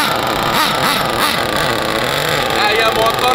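A fast nitro-fuelled RC car engine with a carburettor runs flat out, a loud, close buzzing whine that holds steady and rough throughout.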